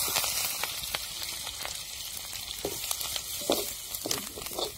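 Spice masala with turmeric crackles and sizzles steadily in a hot pan as it roasts for stuffed brinjal, with scattered louder pops over a constant hiss and no talking.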